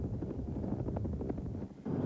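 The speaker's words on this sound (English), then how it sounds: "Hughes was also brought in by helicopter just minutes after Peterson" Rescue helicopter bringing in a snowmobiler, a low rotor thrum with rhythmic chopping pulses and some wind buffeting, moderately loud and steady with no talk.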